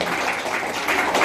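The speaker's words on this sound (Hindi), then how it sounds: "बहुत जोर से आवाज आया तालियों का" Audience applause at a certificate ceremony for trained young women, a dense wash of clapping that fills the whole short moment at a steady, fairly loud level.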